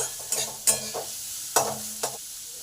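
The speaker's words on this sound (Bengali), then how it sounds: "এবারে পেঁয়াজ কুচানোটা আছে এটা দিয়ে দেবো।" Chopped onion frying with garlic and cumin in a pan, a soft sizzle broken by several sharp spatula scrapes and clacks at an uneven pace, close with no talk.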